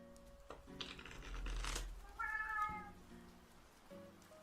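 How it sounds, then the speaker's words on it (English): A pet cat meows near the microphone, with one drawn-out tonal meow in the middle of the clip set against quiet room sounds and a faint steady hum. "I don't know if you can hear my cat."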